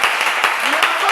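A church congregation applauding and cheering for the Lord, a dense wash of clapping with raised voices mixed in, loud and close, with no single voice standing out.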